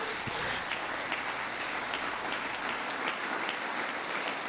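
Dense, sustained applause from a large audience during a presidential address to Congress, a continuous wash of many clapping hands at even loudness from start to finish.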